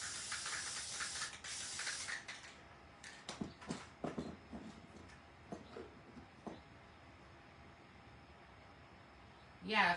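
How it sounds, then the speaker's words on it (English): Rust-Oleum spray paint hissing from an aerosol can in a steady burst over a craft project, then several shorter sprays, with a quiet room around it. "So I'm going to spray this over here."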